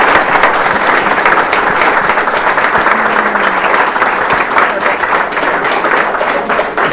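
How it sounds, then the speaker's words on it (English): A lecture audience at the 2023 Opperman Lecture gives a sustained round of applause, many hands clapping in a thick, even roar from start to finish with no voices standing out. "Let's give Rylie a round of applause."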